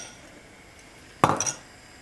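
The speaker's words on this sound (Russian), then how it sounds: "порежу чесночок" A knife chops garlic on a board in a kitchen while soup broth heats, giving one short cluster of sharp clicking knocks after a quiet stretch, close and fairly loud, with no talking.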